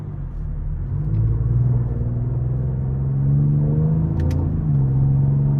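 A 2025 Ford Explorer ST with a 3.0 twin-turbo V6 drives along, a steady low engine rumble and drone from inside the cabin, pitch shifting gently as it pulls through gears.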